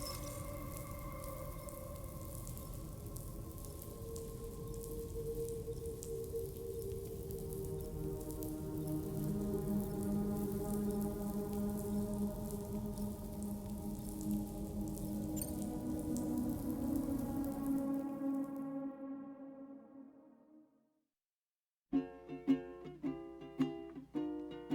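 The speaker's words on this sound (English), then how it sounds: "Raindrops are falling on my head" Rain falling in the video game Death Stranding 2: a steady, hissing patter of rain under a swelling tonal music bed, fading out to silence before soft piano-like notes begin.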